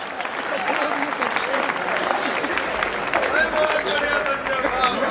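An audience at a comedy poetry gathering (hasya kavi sammelan) applauds in steady, sustained clapping, with faint crowd murmur and a few voices underneath.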